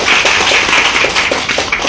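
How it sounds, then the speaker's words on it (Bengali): Crowd applause for a singer at a Sa Re Ga Ma Pa audition held in an Agartala hotel: dense, steady clapping from many hands throughout, fairly loud and close, with no talk over it. "তোর জন্য হাততালি হচ্ছে।"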